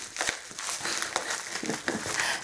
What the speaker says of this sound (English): I'm just gonna tear this thing open here